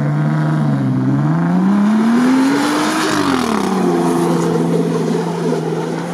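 A Jeep Wrangler Rubicon engine revs loudly on an icy off-road climb, rising in a sweeping pitch then dipping as the throttle lifts and picks up again, sustained and close with no talk.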